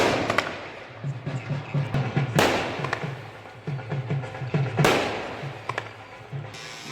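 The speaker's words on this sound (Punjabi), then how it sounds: "ਆਤਿਸ਼ਬਾਜ਼ੀ ਕਰਨ ਦੇ ਨੇ" Fireworks go off outdoors with crackling bursts and two big booming blasts, amid scattered pops and a faint background hum.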